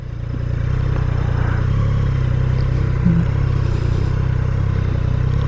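Motorcycle engines idle and rumble at a motorcycle dealership, a steady close mechanical drone with faint clatter and distant higher noises over it, no speech.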